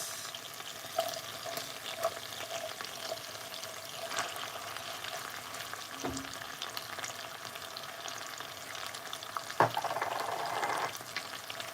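White onions tipped into a hot pan already holding Scotch bonnet pepper, garlic and ginger for a spicy chicken adobo. A low, steady sizzle jumps with a sharp clatter near the end, then frying swells louder, with no voices.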